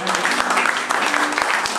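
A Methodist church congregation claps their hands together in dense, continuous applause that fills the room at close range throughout.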